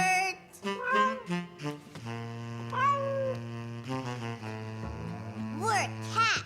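Children's voices in a cartoon imitate cat meows, giving several drawn-out, rising and falling mewing calls one after another over a steady musical background.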